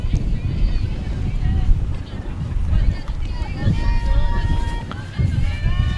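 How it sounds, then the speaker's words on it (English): Gusty wind buffets the microphone at an outdoor college softball field, a low rumbling roar that swells and eases under steady talk, with faint crowd noise in the background. "It's getting windy out here. The wind is picking up."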